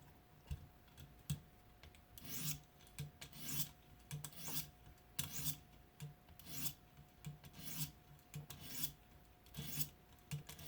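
A Kershaw Shuffle knife blade drawn across a 400 grit stone on a ViperSharp precision sharpening system, a series of short rasping strokes in a steady rhythm, quiet and close, with no talking.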